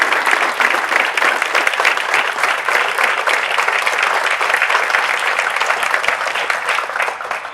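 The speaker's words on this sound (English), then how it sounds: "please stand for one more round of applause." Sustained round of audience applause at a college alumni awards ceremony, dense and even clapping from a large crowd throughout, fading slightly at the end.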